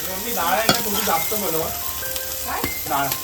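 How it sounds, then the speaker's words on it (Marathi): Marinated chicken frying on a hot tava, giving a steady sizzle that runs beneath people talking throughout. "चिकन फ्राय करून घेऊया"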